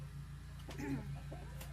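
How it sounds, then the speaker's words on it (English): Chickens cluck softly nearby over a steady low hum, with a few short calls rising briefly in the middle. "Now there's chickens underneath me."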